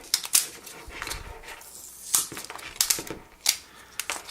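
Protective film is peeled off Apple Watch packaging, producing crisp, irregular crackling and tearing bursts close by, several sharp spikes spread across the moment with quieter rustling in between.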